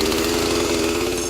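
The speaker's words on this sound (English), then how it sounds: "you're Liz Ennis in Poughkeepsie, New York, you can fire up your trusty chainsaw." A chainsaw fires up and settles into a steady, moderately loud engine drone with a buzzy rattling tone, running continuously without talk.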